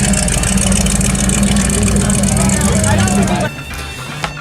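A show car drives past at the 2018 Autumn Leaves car show, its engine a loud, close rumble that drops away sharply after about three and a half seconds, leaving fainter background noise.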